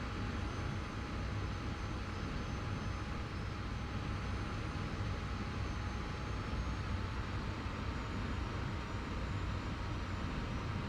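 An F-86 jet fighter's engine in flight in a Korean War combat video game, a steady, unbroken jet roar at moderate level with no talk.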